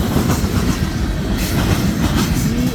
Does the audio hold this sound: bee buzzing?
no